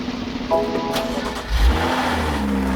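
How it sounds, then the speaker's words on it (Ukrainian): A BMW X5 F15 SUV engine starts for the first time with a low cranking rumble that catches and settles into a steady idle hum, close and alone. "зараз будемо робити перший запуск автівки"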